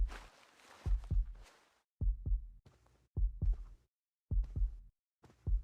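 A real human heartbeat thuds in close, deep, paired lub-dub beats that repeat steadily at roughly one-second intervals, with short quiet gaps between pairs.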